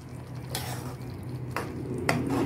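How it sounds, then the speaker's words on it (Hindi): Cream being stirred into a reshmi paneer curry in a pan brings a low, soft simmer under a few distinct spoon clinks and scrapes against the metal, close and fairly quiet, with no speech. "अब हम इसमें डालेंगे क्रीम और इसे मिक्स कर लेंगे।"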